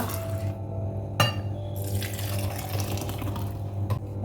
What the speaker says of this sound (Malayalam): കപ്പ് റെഡിയാണ് ഇതിലേക്ക് ഒഴിച്ചു